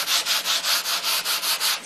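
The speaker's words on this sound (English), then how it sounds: "take your sandpaper and lightly sand" Sandpaper lightly rubs back and forth over glazed wood in about eleven steady, even strokes, a close, dry scratchy hiss with no talking.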